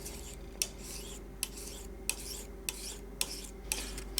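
A Wusthof knife is drawn across a sharpener from heel to tip in repeated strokes, roughly seven evenly spaced rasping swipes, each ending in a crisp metallic click, close and clear over a low hum.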